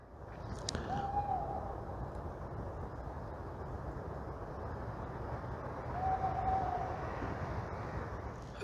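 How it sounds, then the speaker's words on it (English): Two faint tawny owl hoots sound far off in woodland, several seconds apart, over a constant low rumble of outdoor background noise. "over there somewhere is a tawny owl"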